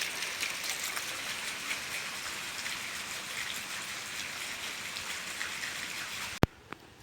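Steady monsoon downpour over village farmland in Punjab, a dense continuous hiss of rainfall with no voices, cut by a single sharp click near the end.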